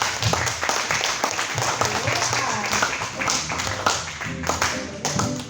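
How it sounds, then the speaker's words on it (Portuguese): Dense, continuous clapping from a large church congregation at a worship service fills the space, steady and loud, with voices and music underneath. "Vamos nas palmas, irmãos, em nome de Jesus."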